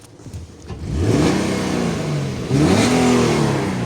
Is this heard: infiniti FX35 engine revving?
yes